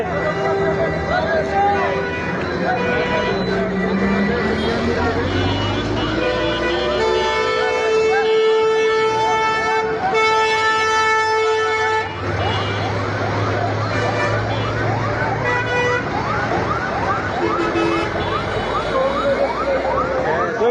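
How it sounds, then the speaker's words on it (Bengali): A fire engine siren wails through busy street noise as it arrives at a gas pipe fire on the Gazipur flyover, Bangladesh, with crowd chatter and traffic close by and horns sounding along the way. "ওই যে ফায়ার সার্ভিস আসতেছে"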